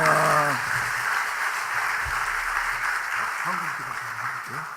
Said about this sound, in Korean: 우리 박수할 때 환영하는 마음으로 할렐루야 하면서 박수하며